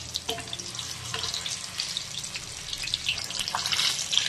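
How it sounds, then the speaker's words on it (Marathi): Tomato bhajiya fry in hot oil with a faint, steady sizzle and bubbling, plus a few soft pops and crackles, heard close and at low volume. "एक एक करून आपल्याला सोडून तळून घ्यायचे।"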